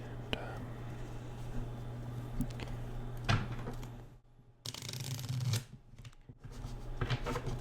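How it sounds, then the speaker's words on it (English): Playing cards are shuffled in quiet rustling bursts, with a brief pause partway through. A soft voice is heard faintly. "it's very loud, so I'm just going to shuffle this way."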